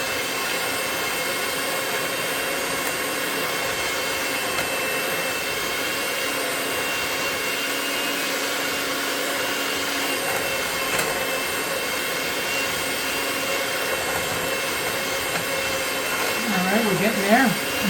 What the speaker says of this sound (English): I'm going to mix that up here with a hand mixer